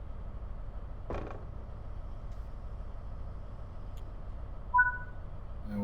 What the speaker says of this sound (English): Unlock the doors.